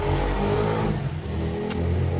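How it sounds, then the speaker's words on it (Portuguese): A steady motor engine drones loud and close, revving then easing with a brief dip midway, with no voices. "Barulho de moto."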